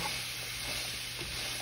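Pancit ingredients sautéing in a pan give off a steady, soft sizzle with a faint stirring scrape, no voices present, quiet throughout.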